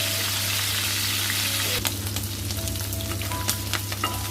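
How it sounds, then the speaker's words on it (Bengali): Prawns fry in a pan with a steady sizzle over a low hum, while scattered sharp scrapes and clicks mark them being stirred, close and fairly loud. "আর এখানে আমি মাছগুলোকে ভালো করে নাড়াচাড়া দিয়ে ভেজে নেব।"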